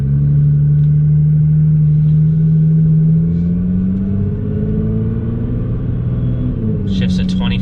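A car on a Cobb Stage 1 tune drones loudly while held in third gear, a steady close rumble that rises slightly in pitch as it pulls, with a brief burst of a voice near the end.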